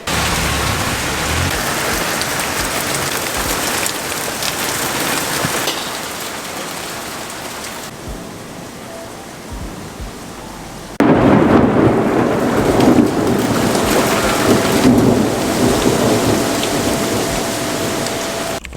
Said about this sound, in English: what better reading weather than a good old thunderstorm?